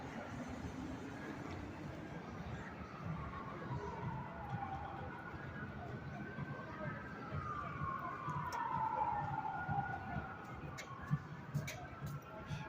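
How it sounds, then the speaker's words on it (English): Emergency vehicle sirens, police and ambulance, wail on the Las Vegas Strip in the morning, rising and falling at a moderate distance over steady city traffic noise and growing louder toward the end. "lot of sirens out this morning."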